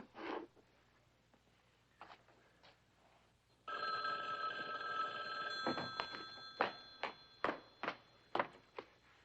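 A telephone bell rings in a quiet room: after a few faint taps, a sustained metallic ring starts, then a string of sharp, evenly spaced rings repeats steadily, loud and close.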